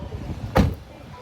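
A car door is shut once on a San Francisco street at sunset. It makes a single close, solid thump with a short decay over faint background noise.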